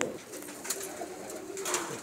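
Pigeons cooing on a rooftop, a few soft, low coos heard faintly over quiet background noise.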